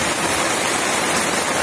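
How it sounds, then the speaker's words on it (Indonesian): Heavy rain pours down on a small fishing boat far out at sea off Pulau Tiga, a loud, dense and unbroken hiss with no gaps and no voices. "angin sudah mulai reda, tetapi hujannya semakin deras"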